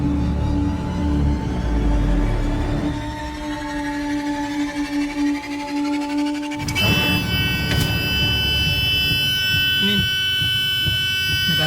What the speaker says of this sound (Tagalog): Bakit nag-fire alarm yung sasakyan ba?